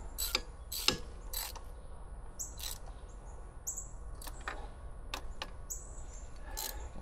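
A ratchet snugs down the fuel rail heat shield bolts on a 1996-2006 Jeep Wrangler TJ or LJ, giving short, sharp clicking bursts separated by pauses, close and fairly crisp against a quiet background.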